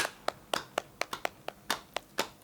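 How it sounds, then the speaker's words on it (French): Sparse hand clapping, a dozen or so distinct claps at an uneven rhythm, fairly faint and close, like one or two people applauding alone with no voices. "Donc pour ça, je mérite des applaudissements."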